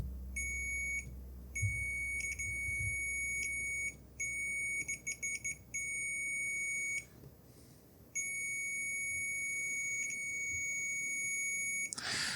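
A multimeter gives repeated high electronic beeps while its probes test the contacts of a game cartridge, some long steady tones and some quick stuttering bursts, clear and close with a quiet background and no talking.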